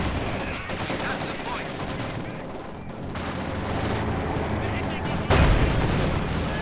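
Machine gun fire in a Company of Heroes 2 1v1 match, continuous rattling bursts mixed with other gunfire and battle noise, a sharper blast near the end, under a commentator's talk.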